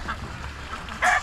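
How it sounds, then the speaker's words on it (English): Ducks quack near a feeding bowl during morning farm chores, a short nasal call bursting out loudly near the end after quieter background bird noise. "A bunch of ducks digging into that bowl too."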